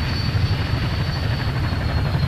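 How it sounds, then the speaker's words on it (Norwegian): A helicopter engine runs in a video game, a steady loud rotor chop with a thick low rumble and a thin high whine held throughout, no talk. "Må slå på helikopteret forresten hvis den skal fly."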